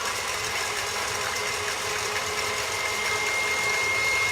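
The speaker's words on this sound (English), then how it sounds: "You're going to add them to the mixer and mix on high until soft peak is reached." A stand mixer whips egg whites on high speed, giving a loud, steady motor whir with a constant whine and no pauses.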